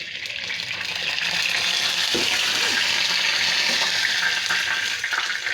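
Hot oil with water in it sizzling in a frying pan, a loud continuous crackling spatter and hiss with a few sharper pops, steady and close throughout.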